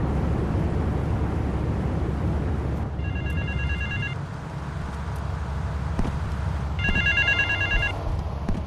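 Telephone ringing in Grand Theft Auto III, a payphone in South Belleville Park: two bursts of electronic ringing over steady loud game ambience with traffic and aircraft-like drone, no talk.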